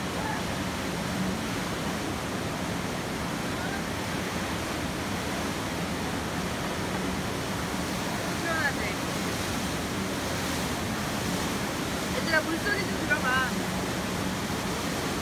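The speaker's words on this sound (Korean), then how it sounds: "물소리 좀 들어봐." River water at Dujiangyan rushes continuously in a broad, steady wash, with a few faint chirps and small splashes standing out near the end.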